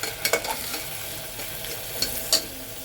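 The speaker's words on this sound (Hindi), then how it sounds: "चिकन को ऑयल में हमें फ्राई कर लेना है।" Steady oil sizzle of chicken frying, with occasional soft scrapes and clinks of a utensil stirring in the pan, close by.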